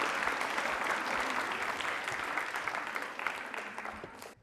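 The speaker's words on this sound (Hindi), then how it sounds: "तालियां जोरों से बजाइए इनके लिए आप।" Loud, dense applause from a university quiz show audience at a Holi event, sustained for about four seconds before tapering off slightly at the end.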